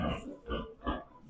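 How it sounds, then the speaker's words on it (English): Pigs grunt in a farm pen, three loud, close bursts of snorting grunts spaced about every half second, with no talking. "Her pigs like to be out running"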